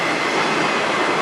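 A short freight train rolls past in Sarnia, Ontario, giving a steady, loud and close rumble of wheels and cars on the rails.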